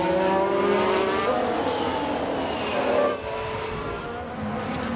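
A Ferrari Formula 1 car in F1 Manager 22 screams past at high revs, its loud engine tone rising and shifting through gears, then dropping off to a steadier drone, with no voices.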